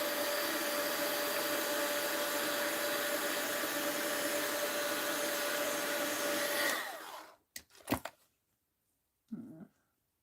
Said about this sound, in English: I'm going to hit this with the heat gun.